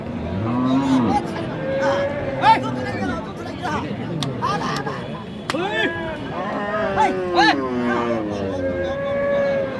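A busy village cattle market where cows and heifers moo and low repeatedly amid a crowd's chatter and a steady background murmur.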